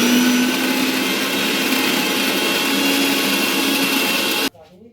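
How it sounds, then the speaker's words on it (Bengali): A kitchen grinder blends bottle gourd leaves with water, a loud continuous motorized whir that holds steady for several seconds, then cuts off abruptly. "এটাকে জল দিয়ে আবার একটু বেটে নেবে।"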